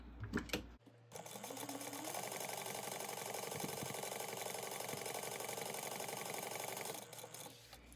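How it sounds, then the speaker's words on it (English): A sewing machine runs a long basting stitch on a backpack pocket, whirring in a steady, close rapid rattle for about six seconds before slowing to a stop. "After you have that basted on, I'm gonna sew right down the center."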